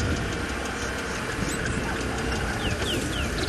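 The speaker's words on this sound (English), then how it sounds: "There's a rattling cisticola up there." A rattling cisticola sings thin, high rattling trills and chips over a steady low outdoor rumble on safari, with faint background noise throughout.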